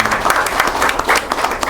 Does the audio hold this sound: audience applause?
yes